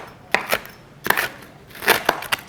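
A knife roughly chops crispy fried potatoes on a board, several crisp, crunchy close cuts in quick irregular bursts.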